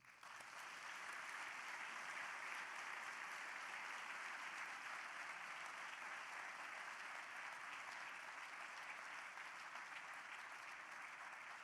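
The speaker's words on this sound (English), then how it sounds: "Ladies and gentlemen, please join me in a round of applause." A large audience gives a sustained, even round of applause after a speaker's introduction, a dense wash of clapping that holds steady throughout, heard from some distance.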